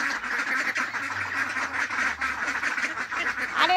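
Several ducks quack in a steady, overlapping chatter at close range, a noisy outdoor bed running underneath throughout, with no talking.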